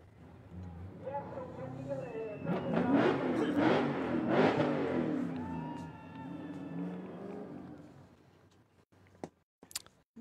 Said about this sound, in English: Both cars are returning to the start line.